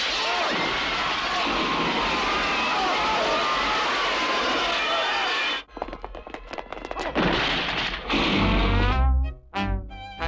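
Airplane engine in a comedy film excerpt, a loud continuous roar for several seconds that cuts off abruptly, followed by scattered clatter, bursts and low thumps.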